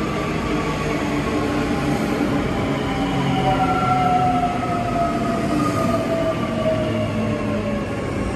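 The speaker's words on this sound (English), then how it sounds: "train running express from Northgate to Bowen Hills, stopping only at Eagle Junction" An express passenger train in Brisbane rumbles loudly and steadily past, with faint squealing wheel tones gliding downward over the constant roar.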